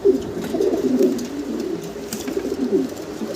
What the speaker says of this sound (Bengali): লাল বোম্বাই কবুতর, দেশি বোম্বাই যেটা